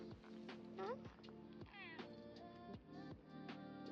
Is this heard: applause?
no